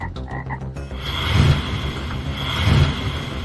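A toad croaks loudly and close by in repeated throaty, rattling pulses, with deep swells of the croak at regular intervals over a dense, buzzing background chorus. No talking.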